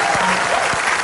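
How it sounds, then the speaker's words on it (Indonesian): Studio audience applause on an Indonesian TV show, a brief dense burst of clapping that stays loud and even throughout. "Tepuk tangan dong untuk kita."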